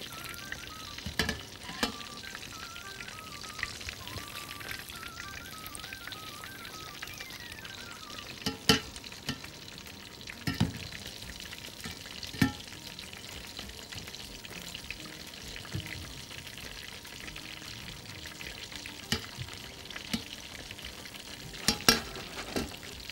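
Shrimp fry in a pan with a continuous soft sizzle, broken by occasional close clicks and scrapes of stirring, with no talking.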